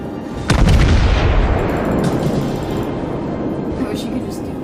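Warship guns fire in the naval battle game World of Warships, a loud booming salvo that rolls into a long rumbling decay, with faint further distant shots afterward.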